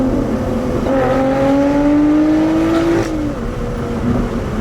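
A Lotus Evora GT engine drones loud and close, its pitch climbing steadily as the car powers out of a corner, then dropping sharply before steadying again; no voices.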